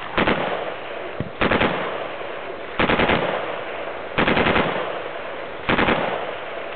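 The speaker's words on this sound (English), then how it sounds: "Put a few rounds through, fully automatic for you." A fully automatic rifle fires at a Bisley shooting range, with five separate short bursts of rapid shots at regular intervals, loud and close, and each burst is followed by a fading echo.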